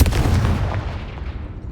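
A fiery explosion spell bursts with a heavy boom in Hogwarts Legacy, loud and close, its rumbling blast decaying over a second and a half into a low roar.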